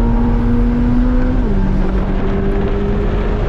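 Chevrolet Corvette C8 Z06 on a race track, loud steady engine drone from inside the car with a clear drop in pitch as it downshifts into a turn, no talking.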